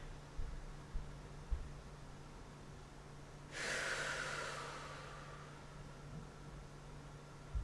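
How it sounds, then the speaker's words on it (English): A single slow, deliberate breath during a yin yoga session, a soft airy hiss that swells and fades over a few seconds, close and quiet against a faint steady hum. "They can be in and out through the nose, in through the nose, out through the mouth."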